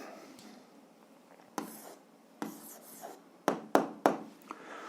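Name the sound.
writing down an algebra answer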